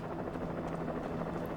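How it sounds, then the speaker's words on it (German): A helicopter in the video game Alan Wake gives off a continuous low droning rotor hum with a steady throb, moderately distant and unbroken throughout. "Ein Helikopter."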